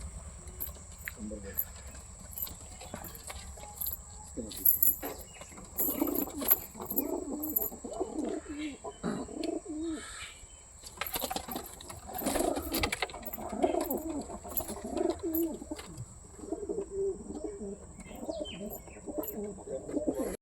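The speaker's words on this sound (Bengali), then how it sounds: "খাঁচায় কী কী পায়রা আছে চলো তোমাদের দেখিয়ে নিয়ে আসি" Pigeons coo repeatedly inside a cage, with low throaty calls and a few higher chirps over a steady background. Faint voices are sometimes heard in the background.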